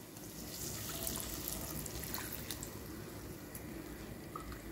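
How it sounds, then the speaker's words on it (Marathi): Half a cup of water poured into a hot pan of spiced onion mixture, a continuous soft splashing and hissing wash lasting several seconds, quiet and close. "आता याच्यात टाकते पाणी अर्धा कप भर,"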